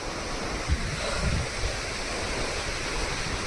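A large river rushes beside a risky village road, a broad, steady roar of water that fills the scene without a break, close and loud.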